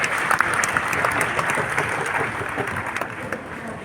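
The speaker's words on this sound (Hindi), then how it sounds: "सबके लिए ताली बजाएं आप सब।" An audience claps steadily through an award ceremony for top exam students in a hall, a dense, even round of applause with no pause.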